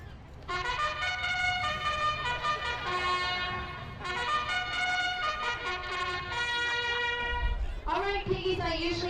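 A bugle sounds a long call at a farm pig race to start the first heat, with sustained brassy notes in repeated phrases that ring out loudly over crowd noise, ending in a rising flourish.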